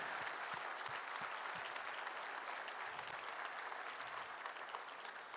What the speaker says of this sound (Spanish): Dale ese aplauso fuerte a Él.